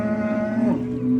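A cow at a Buvayda Yangiqo'rg'on cattle market lets out a single close, loud moo, a low sustained call that bends downward near its end.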